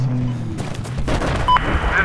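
Mobile artillery fires in the video game Battlefield 4, giving dull distant booms and rumbling blasts over a steady battle backdrop, with no talk.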